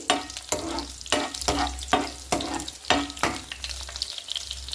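Oil sizzling and crackling in a pan, with repeated bursts of spattering as a tempering with crushed garlic fries, steady and close up, no voices.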